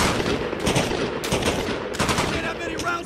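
Sustained gunfire in Arma Reforger's Kunar Province, rapid automatic bursts close and loud with brief pauses between volleys.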